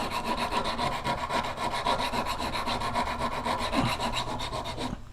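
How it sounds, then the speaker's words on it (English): Steady, continuous rasping of a flat file stroking along the steel edge of a traditional broadhead (Zwickey or Simmons) being sharpened, close and even throughout with no talk. "this is a flat file"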